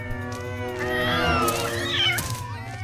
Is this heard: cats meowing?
yes